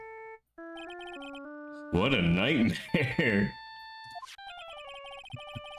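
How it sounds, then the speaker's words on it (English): Phone ringtone from the video game Phoenix Wright: Ace Attorney, a bright chiming melody of stepped tones ringing alone, briefly interrupted midway by a burst of loud talk, then resuming. "Why is that our ringtone?"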